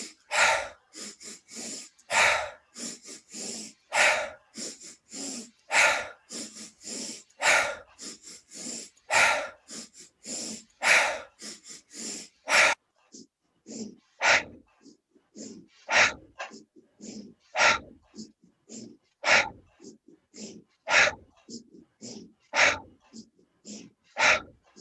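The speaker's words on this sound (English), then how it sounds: "So we're just going to go ahead now and just do 10 of those 3-part breaths." Two people do a three-part breathing exercise, ten deep breaths in a row, with loud close rhythmic inhales and forceful exhales repeating steadily and quickening toward the end, with no talking.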